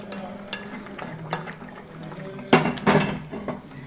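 Okra, small onions, tomato and brinjal go into a pan for sambar and get stirred. There is a loud clatter and a sizzle burst partway through, then utensils scrape over a low fry, all close.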